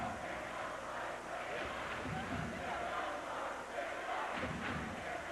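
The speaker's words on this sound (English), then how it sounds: "You can hear the crowd." A crowd roars steadily through a 1986 high school basketball game between the Hillsboro Spartans and the Beaverton Beavers, a dense continuous swell of fans with a voice speaking over it.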